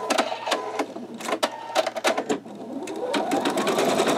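An embroidery sewing machine stitches out a bumblebee quilt block, its needle hammering in fast rhythmic bursts with short pauses between runs, loud and close, with no talking.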